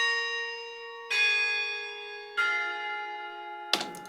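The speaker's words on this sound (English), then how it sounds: "what I personally like the most is this church bell here that goes." A church bell rings three times with long ringing decays between strikes, clear and close, followed by a brief metallic clank at the end.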